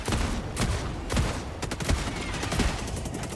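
Rapid gunfire from Helldivers 2 rattles in dense bursts, close and loud, with sharp repeated shots layered over a constant roar of combat.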